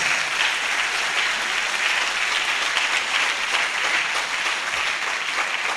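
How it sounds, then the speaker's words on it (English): Loud, sustained applause from a lecture audience, a thick, even roar of many hands clapping that holds steady throughout, close and full with no voices over it. "Please, I want you to give a rousing round of applause."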